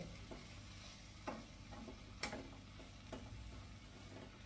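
Mushrooms in masala are stirred in a pan, giving a faint sizzle with a few soft spoon scrapes and taps spread across a few seconds.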